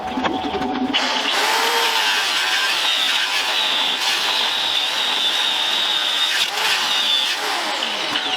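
Small angle grinder with a small disc cutting metal: starts abruptly, then a loud, close, high whine holds steady for several seconds with slight dips in pitch as it bites.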